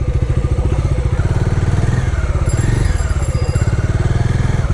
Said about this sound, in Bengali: তো এখানে বাইকটা সাইড করি, বাইকটা কোথাও পার্ক করতে হবে